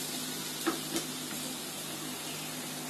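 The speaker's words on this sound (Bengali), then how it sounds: "এখন একটু ভেজে নিব।" Chopped garlic, ginger, onion and green chilli frying in a pan for red sauce pasta, a soft steady sizzle with a couple of faint stirring taps early on, no talk.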